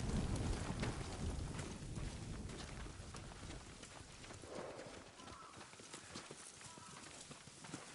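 Horse hooves clip-clop steadily in the Ghost of Tsushima video game, a brisk rhythmic trot over rain and ambient wind, with a brief soft whinny and occasional game dialogue underneath.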